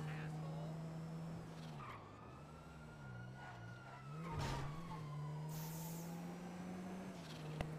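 Video game car engine boosting with nitrous, a steady droning whine that bends and rises in pitch, with a surge and hiss around the middle, fairly faint and accompanied by siren-like tones.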